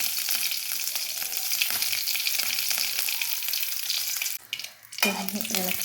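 Two dried red chillies and curry leaves fry in hot oil, giving a loud, continuous close sizzle that drops briefly before flaring up again with a bright crackle, with no talking.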